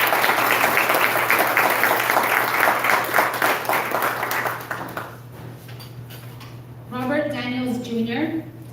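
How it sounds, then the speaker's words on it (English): An audience at a community forum gives a warm round of applause, dense clapping for about five seconds that fades away, followed by a voice beginning to speak. "So let's give her a big round of applause."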